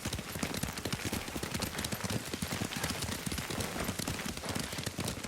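Horse hooves clatter in a fast, dense galloping rhythm as a rider travels on horseback in the Ghost of Tsushima video game, steady and loud throughout with busy background noise.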